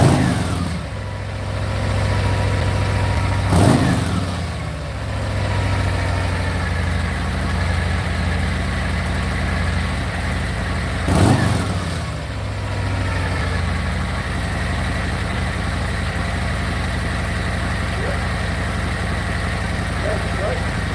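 Harley-Davidson Street Glide motorcycle engine idling with a steady, loud, low throb, broken by two sharp throttle blips that rise and fall back to idle.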